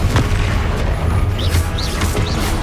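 Confringo blasting spell exploding in Hogwarts Legacy on PS5, a thick booming rumble with crackling impacts and a few short whooshing spell tones over steady game noise.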